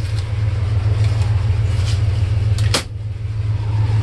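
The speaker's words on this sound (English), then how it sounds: "take a quick walk around the truck while it's running, you can hear that it's idling very nicely" A 1976 Ford F150 Supercab pickup engine idles steadily with a deep, even low rumble, close and loud, interrupted by a brief clunk near the end.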